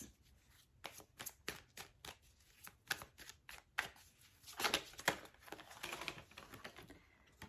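Tarot cards riffle and snap through a shuffle close by, a quick run of crisp papery bursts with short pauses between them, quiet and with no talking.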